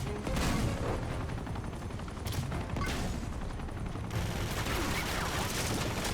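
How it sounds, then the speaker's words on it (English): Repeated gunshots in Uncharted 2, fired at an enemy on brutal difficulty, a steady stream of muffled shots blended into loud, busy game noise with no clear pauses. "Couple more hits as I shoot him 10 times."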